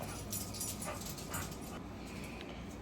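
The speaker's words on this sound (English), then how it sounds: "here comes this dog." A dog whimpers and yips close by, with soft high whines and small bark-like cries running continuously through the short stretch, with no talking over it.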